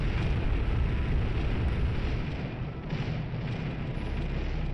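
A rifle in the video game Syndicate Wars fires amid a loud, dense roar of blasts and rumbling explosions that continue steadily without pause, with no voices.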